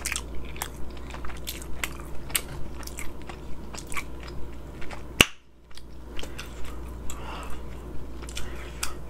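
Biting and chewing on African food such as goat meat, fufu, egusi soup and jollof rice, heard as close, repeated crunchy bites and wet mastication at a steady rhythm, with a brief sharp click midway and no talking.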